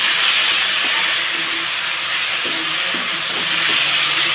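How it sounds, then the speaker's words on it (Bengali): Loud, dense, continuous hissing sizzle of a fish head frying in hot oil with turmeric powder, cumin and ginger, with faint knocks of a utensil underneath. "এখন হলুদ গুঁড়ো দিয়েও বেশ সুন্দরভাবে আমি এটাকে ভেজে নেব।"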